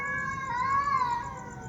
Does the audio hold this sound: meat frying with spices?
no